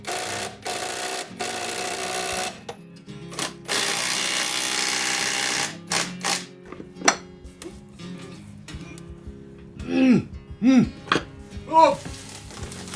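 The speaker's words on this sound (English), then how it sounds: "I also retighten all the bolts as firmly as possible where I can" Bolts being retightened by hand and power tool on an old house's timber beams during a carpenter's renovation, with standard, hagoita and angle-brace bolts: bursts of drill whine and metallic clanks, then ratcheting, squeaking turns near the end.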